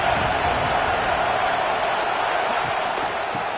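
Crowd at a college football game roaring for the defense on a big third down, a dense sustained wall of cheering and noise with no clear breaks.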